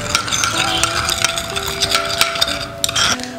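A spoon stirs mug cake batter with milk in a cup, with continuous scraping and light clinking against the sides, close by and fairly steady.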